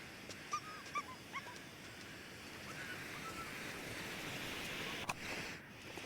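A dog in the snowy wilderness of The Long Dark gives a few short, faint yips and whimpers early on over a steady wind-like hiss, with a sharp click near the end.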